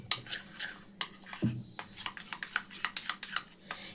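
Cornflour and oil stirred together in a bowl, a soft close scraping and tapping of a utensil against the bowl in quick irregular strokes, faint and without talking.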